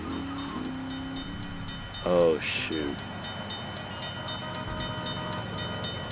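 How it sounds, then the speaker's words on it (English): A rapid, steady warning bell rings as a lifting bridge rises in GTA 3, heard as constant ticking over a busy hum of game noise, with a short spoken exclamation partway through. "That's the sound of the bell ringing right there."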